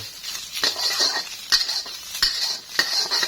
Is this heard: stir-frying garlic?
yes